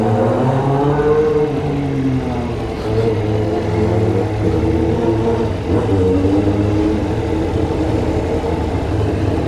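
A Yamaha XJ6 motorcycle being ridden, its steady mid-pitched engine drone holding close and loud throughout with slight shifts in revs and no voices over it.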